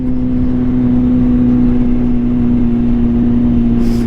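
A 2023 Kawasaki ZH2 motorcycle engine drones loud and steady at speed, a constant low hum with heavy rushing noise and no pauses across the whole stretch.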